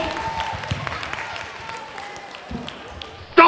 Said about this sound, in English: A round of applause for Mervyn.